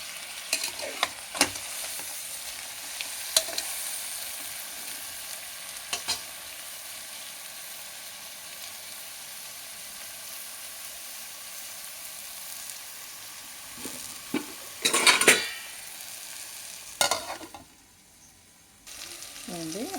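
Stuffed brinjals sizzle and fry in masala in a pan for guthi vankaya kura, with stirring clatter and bursts of louder sizzling near the middle and end, close up and without talk.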